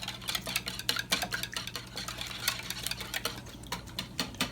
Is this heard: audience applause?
no